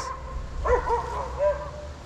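Dogs barking and yipping in short bursts outdoors near an ARRMA TRD Mojave RC car run on sand, moderately close, with background noise.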